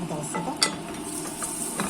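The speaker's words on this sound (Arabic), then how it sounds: "نشوح في البصله بتاعتنا شويه." Onion sautéing in two spoonfuls of oil in a pot over the flame, a steady soft sizzle with light stirring scrapes and one brief clink of a utensil partway through; a voice speaks a single word at the start.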